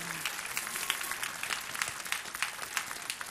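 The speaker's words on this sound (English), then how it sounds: "How about a round of applause for the Lancer Dancers?" A gala audience applauds a dance team, a fairly faint, steady patter of many hands clapping at a distance, with no single clap standing out.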